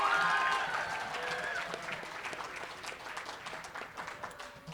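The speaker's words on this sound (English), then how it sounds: "let's have one more round of applause for Aditya Tripathi." An audience at a Poetry Out Loud recitation event applauds the poet Aditya Tripathi, a moderate round of clapping that starts fuller and gradually thins, with a faint tonal sound briefly lingering at the start.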